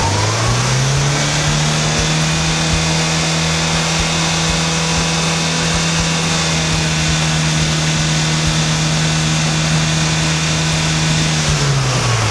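Chevrolet Corsa 1.0 8V Flex engine revving steadily under acceleration, a loud, sustained mid-pitched drone holding constant for about eleven seconds before dropping back at the end, with no talking.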